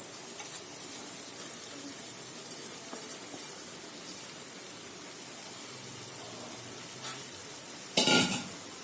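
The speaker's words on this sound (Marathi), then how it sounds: "आता आपण आपली बारीक चिरलेली पालक टाकून घेऊया" Chopped spinach is tipped into a pan of spiced chana dal and stirred, giving a steady frying sizzle with soft scraping and a sharp clatter of utensil on pan near the end, with no talking.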